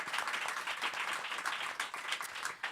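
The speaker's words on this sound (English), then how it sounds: "Please give her a round of applause." An audience at a community talk event claps for a guest being introduced, a brief, even patter of many hands at moderate loudness with no speech over it.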